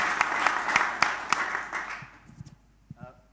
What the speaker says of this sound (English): let's give a big round of applause to all our panelists before we come to questions.